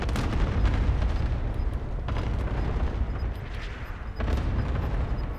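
Vehicle destroyed in Call of Duty Warzone, heavy rumbling explosions and booming blasts rolling over one another, with sharp impacts near the start and around the middle.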